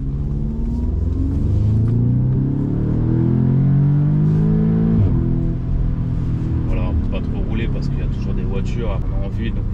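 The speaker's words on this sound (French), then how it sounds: "Là, on a une petite ligne droite. Je vais vous faire montrer une petite accélération" An Audi S3 accelerates hard along a short straight, its engine note rising in loud, rumbling sweeps through the gears, heard from inside the car with someone speaking over it.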